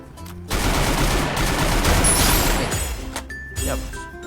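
Gunfire in the mobile shooter Free Fire, a loud dense burst of rapid shots lasting about two seconds, followed by a few quieter shots and game sounds while a person talks.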